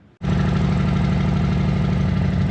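Harley-Davidson motorcycle engine starting abruptly and then idling steadily, a loud, close, low throbbing rumble with an even pulsing beat and no talking.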